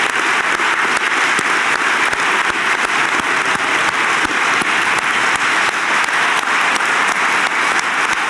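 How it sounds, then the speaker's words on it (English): Dense, steady applause fills a college convocation reunion hall, many hands clapping together at full strength without a break, no voices rising above it. "Can we please give them all a round of applause?"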